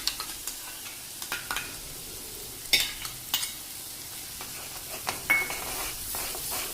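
Yogurt stirred into a capsicum gravy in a pan over low flame, with scattered spatula scrapes and clinks against the pan over a soft, quiet simmering sizzle.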